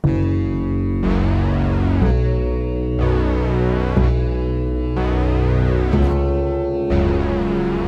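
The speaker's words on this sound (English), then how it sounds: "So I use Juno 6 and I create this sound with it" A Roland Juno 6 synthesizer plays a sequence of sustained chords that change about once a second, with a rich, somewhat harsh, buzzy tone and no voices over it.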